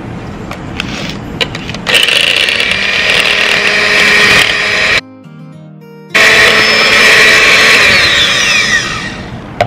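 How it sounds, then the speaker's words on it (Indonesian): An electric mixer beats powdered sugar for leopard cookies, giving a loud, steady motor whine with a clattering edge that cuts out briefly for about a second midway, then resumes. "Lalu sekarang ini di mixer."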